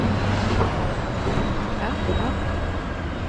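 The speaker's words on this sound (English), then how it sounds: "there's a big vehicle pulling up" A big flatbed truck pulls up nearby on a city street, with a steady low engine rumble and road noise throughout at moderate level, no clear separate events standing out.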